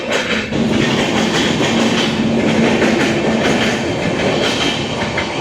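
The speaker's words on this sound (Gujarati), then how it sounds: "ટ્રેન વહી ગઈ હજી એક" A train rumbles steadily past close by, loud continuous wheel clatter and rail noise filling the whole stretch with no voices.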